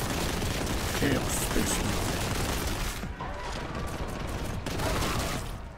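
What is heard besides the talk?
gunfire in the video game Warhammer 40,000: Boltgun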